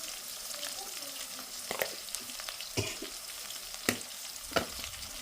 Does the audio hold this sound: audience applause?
no